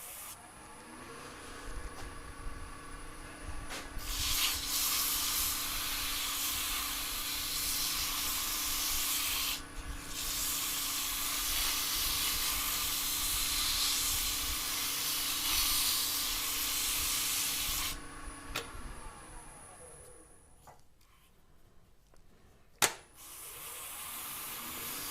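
A turned piston box being sanded with 150 grit sandpaper, likely on a lathe: a steady, close, loud abrasive rushing hiss lasting nearly twenty seconds, briefly interrupted once, over a constant motor hum, then stopping with a sharp knock.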